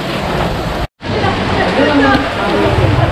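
Rain falling at a white-sand sandbar on an island, a steady loud hiss of broadband patter that briefly cuts out for an instant, then carries on with faint splashing beneath it.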